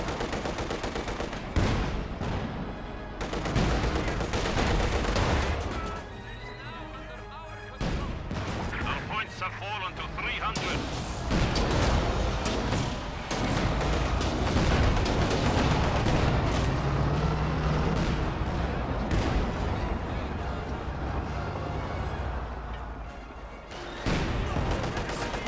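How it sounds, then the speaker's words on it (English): Maxim machine gun from Company of Heroes 2 rattling in sustained bursts amid dense battlefield gunfire and explosions, loud and continuous throughout, with a voice talking over the combat. "Maxim firing away."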